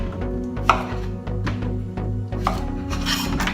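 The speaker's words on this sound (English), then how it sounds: "just going to simply slice the ends off these, cut these into half lengthways" A knife works through courgettes on a cutting board, topping them and halving them lengthways, with a series of close, dull knocks and scraping strokes against the board over a steady low background hum.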